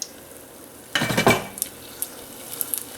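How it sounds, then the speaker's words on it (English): Apple donuts dropped into hot frying oil, a sudden close burst of bubbling sizzle that quickly fades, followed by a few small clinks of utensils. "our next step is to drop our donuts"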